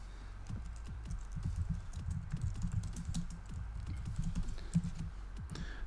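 Steady, rapid typing on a computer keyboard: a close, continuous patter of key clicks with an even rhythm that runs without a break and has no speech over it.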